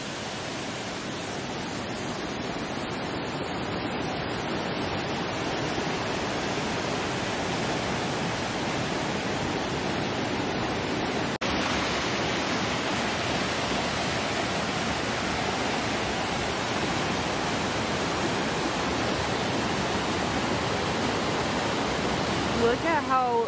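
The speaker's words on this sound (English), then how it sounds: "There are waterfalls everywhere." A mountain waterfall rushes in a steady, unbroken roar, loud and close, holding at the same level throughout with no voices.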